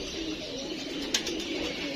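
Pigeons kept in a loft or window enclosure cooing softly amid steady background hum, a continuous low murmur with no talk.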